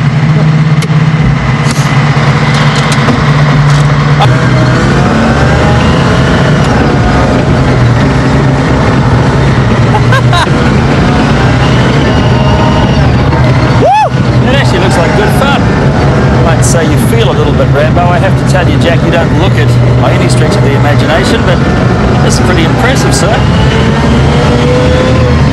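Engine of an FV432 armoured personnel carrier running as it drives, a steady heavy low rumble that holds throughout with people talking over it.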